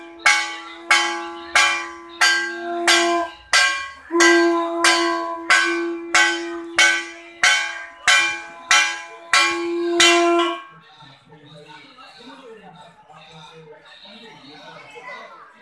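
Temple bells clang in a fast, steady rhythm over a long sustained conch shell blast during an evening aarti at the Yogini temple in Godda, Jharkhand. After about ten seconds the bells stop and only faint crowd murmur remains.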